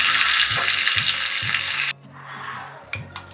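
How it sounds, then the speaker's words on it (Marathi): Tadka tempering sizzles loudly in hot oil as chopped coriander goes in for khandvi (suralichi vadi). A bright, dense crackle cuts off abruptly partway, then a quieter hiss continues with a few soft knocks. "थोडीशी कोथिंबीर घालत आहे आपला तडका तयार आहे"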